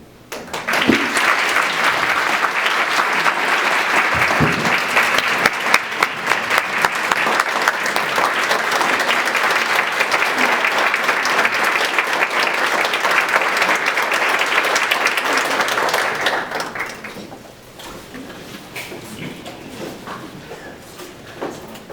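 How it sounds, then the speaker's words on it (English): A room full of guests at a Prevent Child Abuse charity breakfast bursts into loud, dense, sustained applause lasting about sixteen seconds before abruptly dropping away to quiet room noise. "let us applaud the success and the life of Mr. Xavier Walker."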